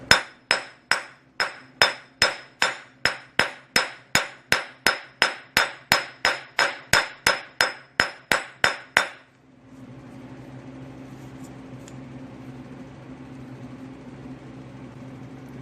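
Hammer whacks seating a wheel bearing into a Toyota AE86 hub: about twenty sharp metallic blows in a quick, even rhythm, close and loud, then faint background hum after they stop.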